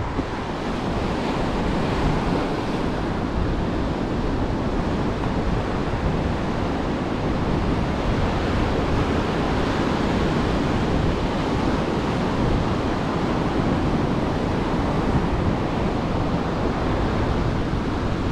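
Surf breaking on a Florida Panhandle beach while surf fishing in 65-degree water, a continuous loud wash of waves mixed with wind buffeting the microphone, steady throughout with no talking.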